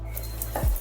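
A spoon scrapes and stirs spice paste and yogurt for catla fish rezala in a kadai over a low simmer flame. There is a soft sizzle and one short scraping stroke near the end, all very brief.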